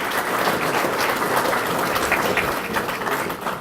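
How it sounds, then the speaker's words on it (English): Audience at a memorial scholarship banquet clapping for an honoree, a full, steady round of applause from many people, close and loud, tapering slightly near the end. "Give Alasia a round of applause, please."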